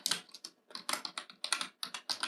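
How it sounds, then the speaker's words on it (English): Rapid, uneven keystrokes on a computer keyboard as Python code is typed, close and clear, in bursts with short pauses and no voices. "And then we type our except block."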